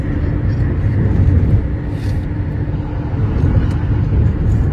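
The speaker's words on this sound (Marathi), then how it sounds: "तन्मय दादा इथे चालवतोय आता गाडी." A car drives along the straight, smooth Samruddhi expressway, its steady low road and engine rumble loud and continuous from inside the cabin with no talk.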